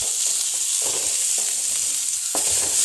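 Onion frying in a pan for mutton sukka, a steady bright sizzle with repeated soft stirring scrapes and one firmer knock near the end, no one talking.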